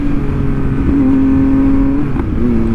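A new motorcycle with a quick shifter revs loudly up close and downshifts, its engine note holding, then dipping and shifting pitch in quick steps over a sustained drone.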